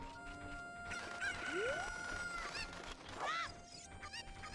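An angry cucco in The Legend of Zelda: Ocarina of Time, giving shrill rising squawks and clucks among other game sounds and a steady background tone, loud and close with no talking.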